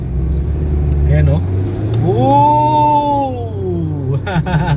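A 2024 Mitsubishi Triton GLS automatic pickup with the new 4N16 diesel engine revs up, its rising then falling engine tone loud and close, with a brief bump of road noise before it and a voice shouting near the end.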